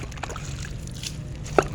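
Water sloshes and trickles as a cats' water bowl is emptied and cleaned at home, soft close-up dribbling with one brief sharper splash near the end.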